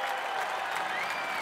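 Dense applause from a large audience at a live concert, steady and loud throughout the short burst with no pauses.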